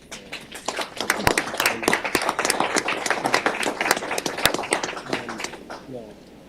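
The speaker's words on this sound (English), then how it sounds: "I want to ask everyone to lead in an applause for extraordinary leadership" An audience at a county board of commissioners meeting bursts into sustained applause, many hands clapping densely and steadily at moderate volume before thinning out, with a voice beginning to speak as it fades.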